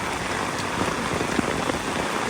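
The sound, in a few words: pouring rain in Singapore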